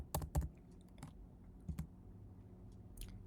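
Keys on a computer keyboard tap in quick irregular bursts, close and fairly quiet, with short pauses between strokes.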